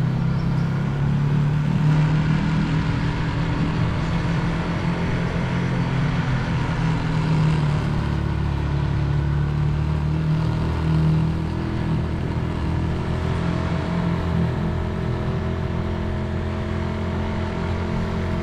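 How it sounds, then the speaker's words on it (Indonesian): A motorcycle engine drones continuously while touring on the road, with a steady low rumble and subtle shifts in pitch as the speed changes. "backsound-nya saya matiin ya supaya kita bisa lebih asik mendengarkan suara mesin motor"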